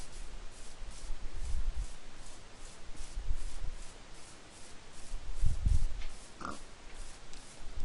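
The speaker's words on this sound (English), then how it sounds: "I heard a pig." Pigs in the video game Minecraft give short grunting oinks several times, fairly near, over a steady background of game ambience.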